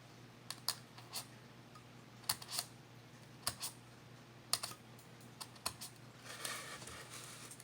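Careful cutting of a sound hole in a handmade Native American style flute, heard as sparse, close, sharp clicks and snips in small clusters separated by quiet gaps, ending with a short flurry of faint scratching.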